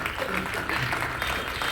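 Audience applause at a school Republic Day event, a short burst of many hands clapping in a crowd, moderately loud with some voices mixed in.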